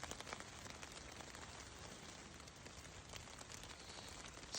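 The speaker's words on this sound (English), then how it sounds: "It's raining. It's not raining hard, but it's been off and on drizzling." Light rain drizzles on a backpacking tent's rain fly at night in Nantahala National Forest, North Carolina, a steady soft patter of drops with no voices.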